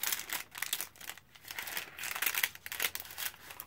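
Thick coffee-dyed yellow journal paper crinkles and rustles as it is handled, a close, continuous papery crackle with uneven swells and brief pauses, no talking.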